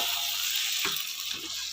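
Eggplant frying in hot oil gives a steady, close hiss of sizzling, with a couple of faint clinks of stirring breaking through.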